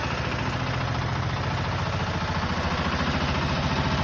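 A converted 12 hp Dobrynya mini tractor engine runs steadily at close range, a loud, even chugging rumble with clattering vibration and no pauses.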